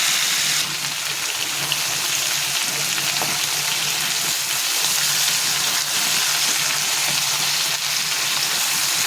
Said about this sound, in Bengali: সেগুলো একটু ভাজা হোক।